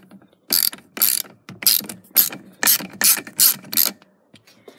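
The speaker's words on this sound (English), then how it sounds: "you're going to want to start by undoing your bolt on the steering column" A hand ratchet clicks in a series of quick, loud bursts, about eight strokes, while loosening a bolt on a car's steering column during an aftermarket steering wheel install, close and alone.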